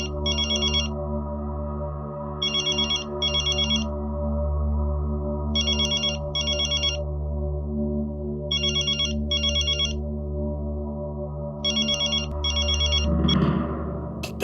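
A mobile phone ringtone for an incoming call plays loudly in repeated paired bursts of a bright electronic melody over a sustained low musical drone, with a brief rustle near the end.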